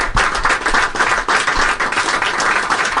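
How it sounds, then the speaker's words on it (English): Audience of current and former radio station employees applauding in a room, dense loud clapping that continues steadily for the whole stretch with slight swells. "A little round of applause for all of us."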